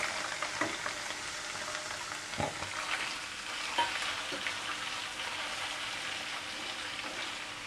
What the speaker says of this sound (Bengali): তো এই তেলে আমি এবারে দিয়ে দেবো আদা রসুন পেস্ট করা। এটাকে একটু ভালো করে ভেজে নেব।